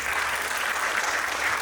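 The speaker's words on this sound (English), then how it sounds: "So please give a resounding applause for Rachna's remarkable efforts" An audience at a classical Indian dance arangetram gives a dancer steady, even applause, a continuous wash of clapping from many hands.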